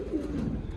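A flock of racing pigeons at a breeder's loft coos in a low, continuous murmur, close and soft.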